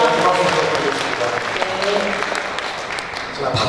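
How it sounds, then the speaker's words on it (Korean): Audience applause at a Korean campaign event for a Jeonbuk provincial governor preliminary candidate, steady dense clapping throughout with crowd murmur and voices mixed in. "박수 부탁드리겠습니다"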